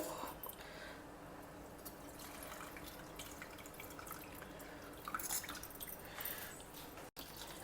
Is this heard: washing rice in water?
yes